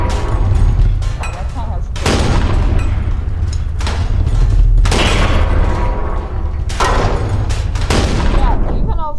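A tank in People Playground fires four loud, booming shots spaced a couple of seconds apart, each with a blasting crack and rumbling tail, while someone talks over the gunfire.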